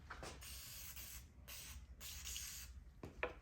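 Cleaner sprays onto a rag for bicycle parts in several short, close, hissing bursts with small pauses between them.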